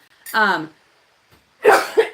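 Two short bursts of coughing separated by a pause of silence, close and fairly loud.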